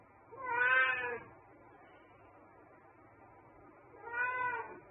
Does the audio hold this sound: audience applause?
no